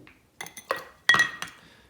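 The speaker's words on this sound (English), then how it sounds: "A couple of ice cubes." A couple of ice cubes drop and clink into a glass as a drink is made, a few sharp close glassy knocks with a brief ringing tail, no talking.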